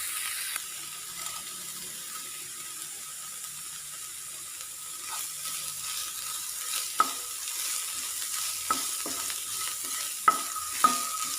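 Sliced onions sautéing with a little salt in a pan, a soft continuous sizzle with occasional sharp clicks of a spoon against the pan; no talking.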